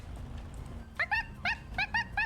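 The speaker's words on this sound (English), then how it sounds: "I think a dog barked." A dog in a GTA roleplay game gives a quick run of six short, high yips and barks in an even rhythm, fairly close and clear over a low background hum, with no talking.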